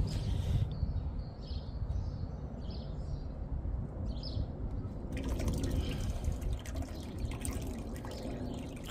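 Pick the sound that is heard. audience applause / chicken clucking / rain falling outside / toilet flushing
toilet flushing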